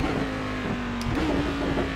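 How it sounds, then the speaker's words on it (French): Race car engine held on the pit limiter in the iRacing sim, a steady buzzing drone at constant pitch with slight wavering, loud and close for a couple of seconds with no talk. "Le bruit du pit limiter est très bien fait aussi"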